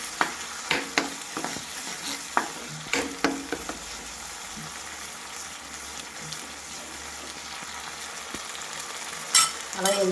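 Onion paste frying with masala in a pan for gorakalu vankaya pulusu, a constant soft sizzle with a run of quick ladle scrapes and taps early on and a louder scrape near the end.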